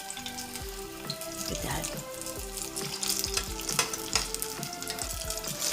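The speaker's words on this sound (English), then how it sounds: "So I'm just gonna move them around a little bit because I don't want them burning." Apple fritters frying in canola oil produce a dense, continuous bubbling sizzle up close, as they are moved around the pan; a voice speaks briefly over the frying.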